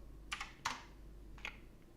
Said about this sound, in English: So we're going to here type in O.